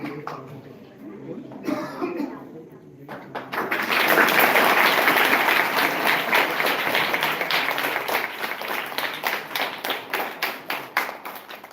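Quiet talk and a few stray claps give way to loud, sustained applause from an audience welcoming guests at a village event, the clapping holding steady and turning slightly more rhythmic toward the end.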